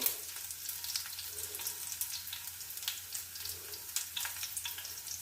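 Onions frying in a pan for fish curry make a steady crackling sizzle, close and fairly quiet, with brief sharp spits and pops scattered through it and no talking.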